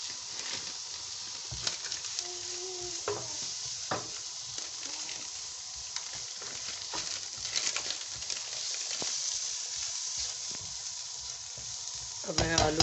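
Peas and spices tossed into ginger and garlic frying in a pan for patties filling, a steady sizzle broken by repeated spoon scrapes and knocks, with a louder clatter at the end.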